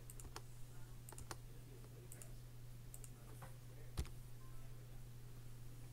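Light typing on a computer keyboard, scattered clusters of soft clicks spread irregularly across several seconds, faint and close over a steady low hum, with no talking.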